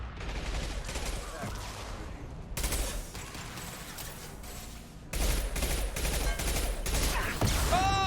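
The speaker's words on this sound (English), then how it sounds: "Oh, that's a rocket." Incoming rocket fire and gunfire in Mass Effect 2, dense loud bursts of shooting and impacts in three sections, with a sharp whooshing rocket near the end and some faint talk mixed in.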